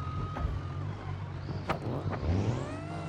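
A BeamNG.drive 2000 hp semi truck engine drones steadily, its pitch rising and falling as it revs, with a couple of sharp clicks along the way.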